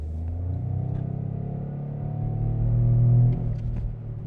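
A 2025 Toyota GR Corolla's inline-three engine revs up on a paddle downshift and holds a low, throaty drone that swells and then drops off, loud and close, with no voices.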